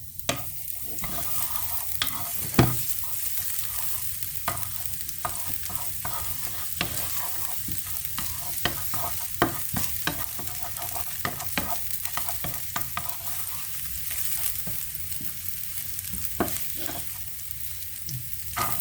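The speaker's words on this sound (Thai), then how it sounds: "มาผัดกับข้าวกันพี่น้อง" Food stir-frying in a pan for a Thai-style stir-fry, with a continuous soft sizzle and repeated sharp scraping and tapping of the spatula against the pan over nearly twenty seconds, close and without talk.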